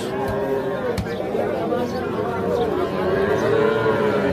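Cattle at a busy rural livestock haat where young bulls and heifers are sold, with a low lowing under constant crowd chatter and nearby voices.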